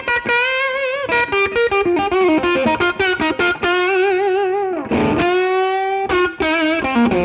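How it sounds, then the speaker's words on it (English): Electric guitar through a Behringer Fuzz Bender fuzz pedal, playing a loud, continuous run of saturated, sustaining fuzzy notes and bends with brief pauses, with no talking. "but with the Fuzz Bender pedal on, it sounds like this"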